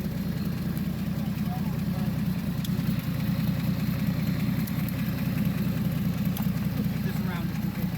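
A car engine idles steadily just after starting, a constant low rumble held without throttle for the whole stretch, close and even in level.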